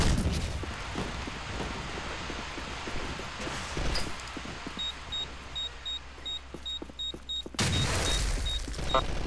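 Grenades go off in the online shooter Arctic Combat, two heavy booms a few seconds apart over a low ambient rumble, with a string of short electronic beeps pulsing near the end.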